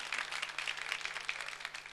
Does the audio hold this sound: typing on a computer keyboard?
no